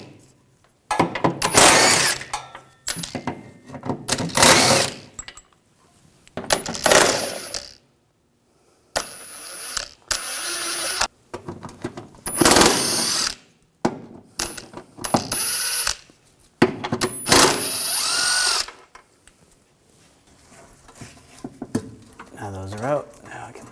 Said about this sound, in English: And then we're going to take all these bolts out. Using a 16mm socket,